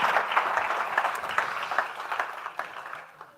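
Audience applause at a food conference, a steady wash of many hands clapping that slowly thins and fades toward the end, with no voices over it.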